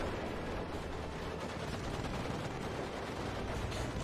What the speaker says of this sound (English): MG3 is doing a huge amount of suppression.